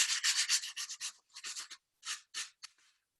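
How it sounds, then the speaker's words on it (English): Carving foam is sanded by hand with 100 grit sandpaper in short, brisk rasping strokes, about a dozen close scrubbing passes in quick bursts with brief gaps between them. "I'm just going to take a piece of sandpaper. This is 100 grit, 100 grit."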